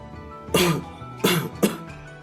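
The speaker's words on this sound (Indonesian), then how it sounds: "terdengar suara batuk dari suami" A man with a chronic illness coughs three sharp times, close by: two in quick succession, then a pause and a third, with quiet in between.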